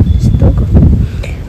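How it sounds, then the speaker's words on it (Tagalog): Loud, low wind buffeting and rumbling against the microphone in gusts, with faint rustling underneath. "God, ang hangin."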